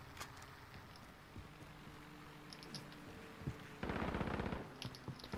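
Gunfire in a shooter video game comes as scattered distant shots, then a sharp rapid automatic burst near the end, with faint game ambience underneath.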